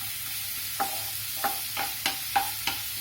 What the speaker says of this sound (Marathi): त्याला चांगलं परतवून घ्यायचं तेलावरती।